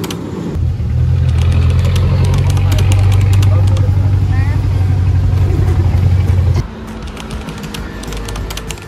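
A motorized tricycle engine on a ride toward Anilao Port in Batangas, a loud, steady droning rumble that holds for several seconds and then drops off abruptly, leaving quieter road noise.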